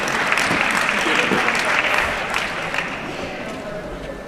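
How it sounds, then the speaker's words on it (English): Loud, dense audience applause at the official opening of an international UCLG training at Sir Dawda KCC in Banjul, sustained and then easing slightly, with a voice speaking faintly beneath the clapping. "a round of applause for the representative of UNFPA"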